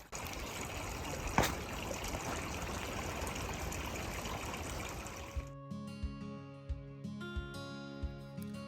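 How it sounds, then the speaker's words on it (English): Cool, clear stream water on the Elk River Trail trickles and gurgles steadily at close range as water bottles are filled, then gives way to a quieter stretch with soft, sparse drips and tones. "We filled our water bottles with the cool, clear water."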